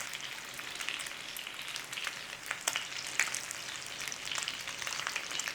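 Fat sizzles and crackles steadily in a hot pan for an Irish boxty breakfast, a close, dense frying hiss with sharper pops scattered throughout, no voices.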